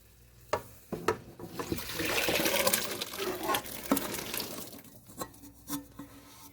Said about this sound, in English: I'm going to pour in this pot of beans without trying not to hit the camera